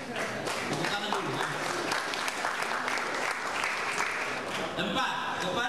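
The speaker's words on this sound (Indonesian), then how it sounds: "Tepuk tangan dulu" An audience at a talk applauds, a dense, steady burst of clapping from many hands that lasts throughout, with a speaking voice over it.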